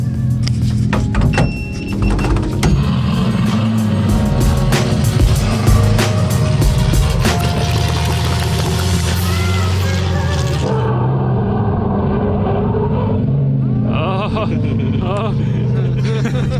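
A race car sits at a track for testing and pulls away, its engine running loud and rough throughout, rising and falling with the throttle before easing back, with voices talking over it.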